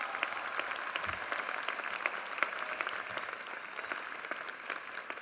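A university commencement crowd claps warmly in a sustained round of applause, heard from a moderate distance and fairly soft, dense and steady with scattered sharper claps.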